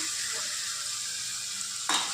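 Ground spices fry lightly in oil for an eggplant bharta, a soft, even sizzling hiss that swells into a brief louder burst near the end.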